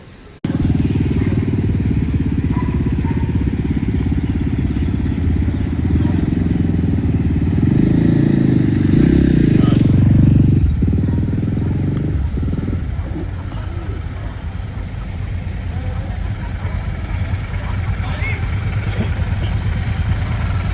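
Motorcycles of the Distinct Riders Club in Gurgaon, heading out on a group ride to Murthal: a loud, continuous, close engine rumble that swells around the middle as throttles rise, then settles into a steady idle.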